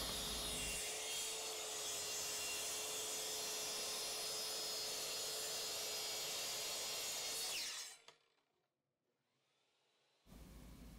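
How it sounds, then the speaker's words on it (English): A track saw cuts through plywood with a loud, steady whining buzz for about eight seconds, then stops abruptly, leaving near silence before the motor noise returns briefly. "I'm going to start by using the track saw to cut a piece of plywood."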